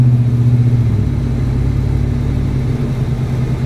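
A Ford Raptor pickup's engine drones steadily and loudly from inside the cab while driving, a constant low rumble that dips slightly as the transmission shifts.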